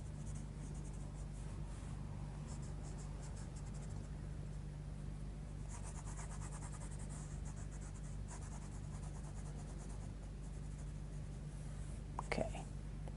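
A Derwent Coloursoft pencil drawing highlights on black paper: a faint, steady scratchy scribbling close up, continuous for several seconds over a low hum, ending with a brief sharper tap.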